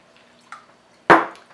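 Water goes into a container of chia seed and carob chip pudding with one brief splash and gurgle, preceded by a faint small knock, with no talking.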